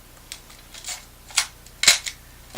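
The hinged back of a Nikon FM2 film camera is pressed shut, giving a few sharp, close mechanical clicks and snaps spread over a couple of seconds, with the loudest pair near the end and no talk.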